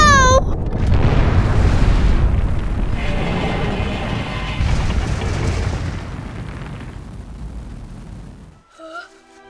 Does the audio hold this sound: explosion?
yes